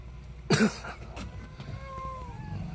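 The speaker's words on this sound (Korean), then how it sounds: "고양이들 이쁜데 이 이쁜 고양이죠" A single short, close cat meow sounds out near the start at a cat cafe, followed by quieter background noise and a faint higher-pitched call later.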